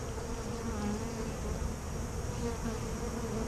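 Bees buzz around a hive inside an old oak tree, a steady, dense droning hum of many insects close by, fairly quiet and continuous with no speech.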